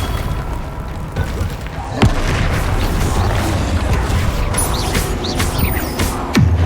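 Confringo blasting spell explosion in Hogwarts Legacy, a loud booming burst amid continuous game combat noise, with a shouted spell and effects layered over dense rumbling action.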